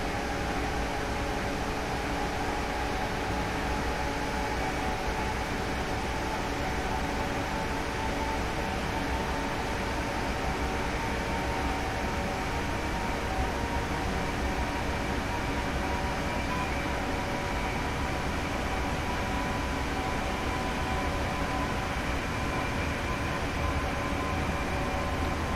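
A train runs continuously in the Train Sim World 3 simulation game, a steady loud engine drone with a constant rumble and hum and no break for the full length.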